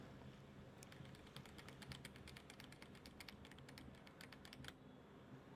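Rapid keystrokes clatter on a computer keyboard in a quiet room, a steady burst of typing that stops near the end.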